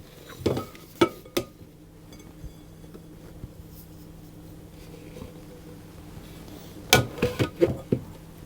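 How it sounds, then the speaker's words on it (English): Clumped almond pastry mixture for an apple Bakewell tart tipped out into a large bowl: a few sharp knocks and scrapes near the start, a quiet stretch, then a quick cluster of clattering bowl taps near the end. "So I'm going to tip that out into a large bowl."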